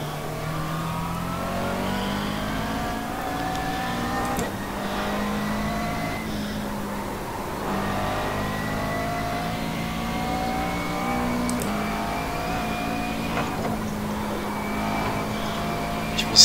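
A Mercedes-AMG GT3 race car in the iRacing sim at Bathurst, its engine droning steadily with rising and falling revs through the whole stretch, loud and continuous without a clear pass-by.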